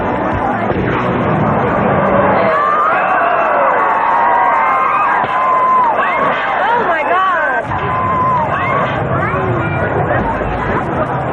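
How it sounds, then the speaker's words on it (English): Friends on the ground cheer and chatter as a bungee jumper prepares to dive headfirst from a 200-foot platform. A loud, continuous crowd hubbub carries scattered whoops and shouts. "Friends on the ground cheer as Marty gets ready to dive headfirst from the top of a 200-foot platform."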